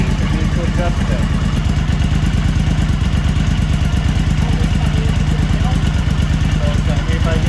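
A Suzuki V-Strom motorcycle engine runs steadily during a throttle body sync, giving a close, continuous mechanical clatter and pulsing idle.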